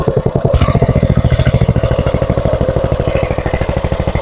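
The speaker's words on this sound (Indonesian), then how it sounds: "Nah, ini untuk mesinnya sudah nyala." A palm plantation hose sprayer machine's engine runs steadily after starting, a loud, rapid chugging pulse that continues evenly throughout with no talk over it.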